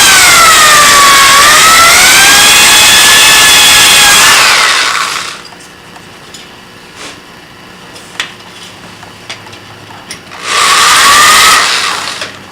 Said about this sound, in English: now we're going to drill our hole with 3/16